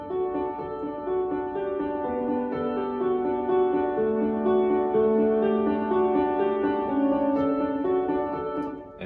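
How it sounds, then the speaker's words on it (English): Piano melody written for a song remix plays steadily on its own, sustained tones stepping through a gentle line at a moderate, even level with no voices over it. "I'm putting this piano melody under it, and the piano melody sounds like this so far."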